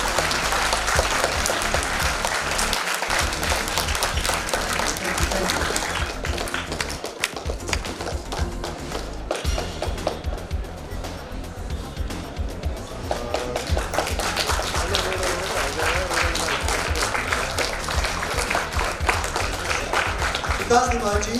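An audience at a state school chess championship ceremony applauds in a long, dense, loud stretch of clapping that carries on steadily with only brief dips.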